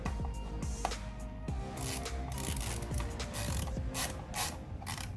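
A ratchet with an 8mm socket runs down the coil bolts on a 2011-2014 Ford F150 5.0L V8, with quick repeated clicking strokes up close and light metallic rubbing between them.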